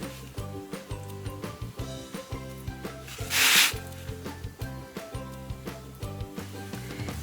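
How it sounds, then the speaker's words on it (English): A scour pad rubs and scratches across the surface of a ceramic pottery piece in soft, repeated strokes, faint and steady against a quiet background. "It's just putting scratchy lines on it."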